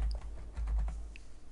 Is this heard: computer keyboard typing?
yes